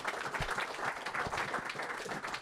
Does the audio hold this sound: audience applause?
yes